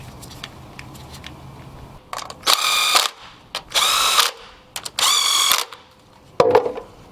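Four loud, close bursts of a power driver or ratchet tightening bolts on a Honda K series engine cover, each lasting about a second, separated by short pauses and softer clicks.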